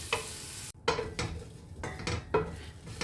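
Onion sautéing in a pan, a sizzle broken by repeated scraping and clanking strokes of a utensil against the pan, close and rhythmic.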